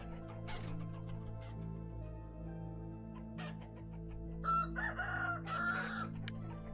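Chickens in the survival game Vintage Story cluck and crow against a steady low background hum, with a brighter burst of calls near the end.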